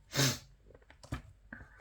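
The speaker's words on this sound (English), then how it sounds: "I'm sneezing away doing my YouTube video and I'm not stopping" A single loud, close sneeze bursts out at the start, followed by quieter breaths, sniffs and small mouth sounds.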